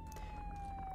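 A faint, steady electronic fire truck siren in the video game Flashing Lights holds a nearly constant pitch against a low, quiet background rumble.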